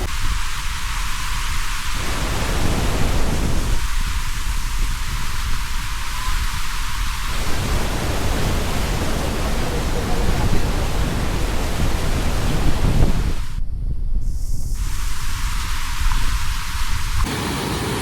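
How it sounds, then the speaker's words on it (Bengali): Waterfalls at Panchet dam in Purulia pour in a steady, loud, dense roar of rushing water that fills the whole scene without a break. "এইখানে দেখতে পাচ্ছ কি ঝর্ণা, ওইদিকে ঝর্ণা, চারিদিকে ঝর্ণা"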